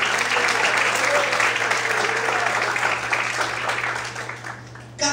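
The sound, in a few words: church congregation applause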